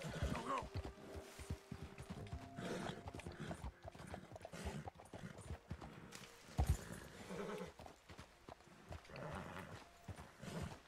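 A horse in the Red Dead Redemption 2 video game clip-clops along steadily with an occasional whinny, while someone talks over it throughout.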